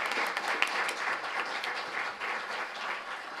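An audience at a scientific workshop on bioresources claps steadily for a few seconds, a dense, even patter of many hands with no voices over it.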